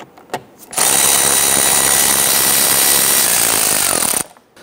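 A power tool loosens 8mm bolts securing the fender liner to the bumper of a 2011-2019 Ford Explorer, a loud continuous buzzing whir lasting several seconds after a few faint clicks, then cutting off abruptly.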